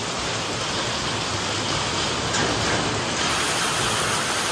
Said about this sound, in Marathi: लय खतरनाक पाऊस आहे